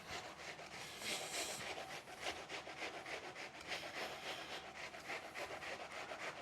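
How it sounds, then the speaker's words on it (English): Hand grating food onto a stainless steel cutting board, a steady, continuous rasping scrape with rhythmic back-and-forth strokes, close and fairly quiet, with no talking. "Now, I'm grating this onto a stainless steel cutting board"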